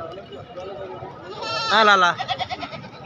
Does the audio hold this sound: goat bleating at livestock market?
yes